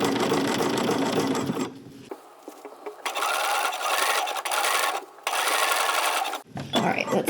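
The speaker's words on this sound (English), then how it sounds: "Let me sew a little ways and we'll see if we like how it looks." A sewing machine stitches rickrack scallop trim onto a vintage-look placemat, running in loud, steady whirring stretches broken by two brief pauses where the needle stops.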